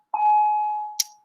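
A school bell sounds indoors as a single clear electronic chime, one sustained tone that fades out, followed by a brief higher ding near the end.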